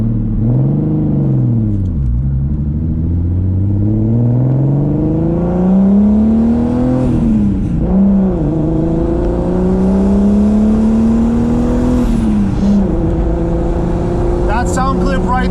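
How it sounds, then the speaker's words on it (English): VR6 turbo-swapped Audi A4 B5 engine revving up and down under load while driving, a loud continuous drone with rising and falling pitch sweeps, heard from inside with some voices faintly present. "Sound clip right there is the whole reason why you go VR swap."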